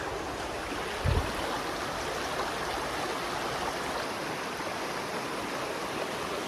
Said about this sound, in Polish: Tak czy siak płynie.